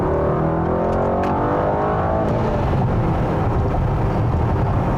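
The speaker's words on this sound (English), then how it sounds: "obviously the acceleration of the AMG is phenomenal" A 2020 Mercedes-AMG GT 63 accelerates hard on the road, its engine roaring loudly and climbing steadily in pitch through the gears, close and continuous without talk.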